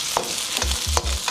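Onions sizzle in hot cooking oil for chicken chow mein. A close, bright crackle runs throughout, and a few dull thumps from the pan or spoon land in quick succession.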